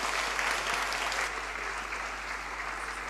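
Steady applause fills a church during an ordination thanksgiving service, a congregation clapping continuously at moderate distance before easing slightly softer toward the end.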